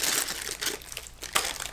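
Crinkling plastic bag handled while fitting water pump parts and hoses, a dense, continuous rustle with a couple of louder crunchy bursts, close up and with no talking.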